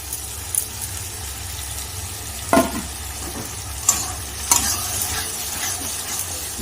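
Boiled dal being stirred into fried spices in a pan, with a steady low sizzle and a few louder scraping stirs, no talking.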